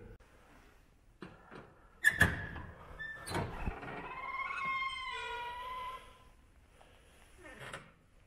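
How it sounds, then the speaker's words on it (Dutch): Old door in a cathedral, leading up into the cathedral attic, clunks and creaks as it is opened: a sharp knock or latch, then a drawn-out wavering creak of the hinges, followed by quieter shuffling as people pass through. "Die deur daar gaan we nu door."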